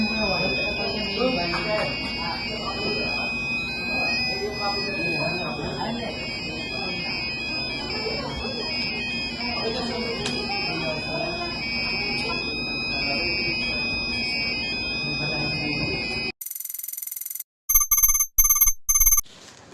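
A small electronic buzzer in a beginner robotics project, its pitch varied with a potentiometer, sounds as short, bright, loud bursts near the end after a stretch of busy background sound.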